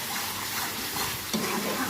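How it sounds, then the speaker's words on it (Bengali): Spice paste with chilli powder being stirred and fried in oil for Bombay duck fish, a soft continuous sizzle with scraping stir strokes, fairly faint and close. "সুন্দর করে মশলাগুলো একসাথে মিশিয়ে ভালো করে তেল না ছাড়া অবধি কষিয়ে নিতে হবে।"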